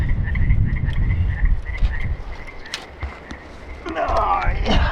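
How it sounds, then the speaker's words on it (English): Frogs croak repeatedly in a loose chorus, close and fairly loud, with rustling and low thumps underneath. "Frogs are cheering me on. They always cheer me on."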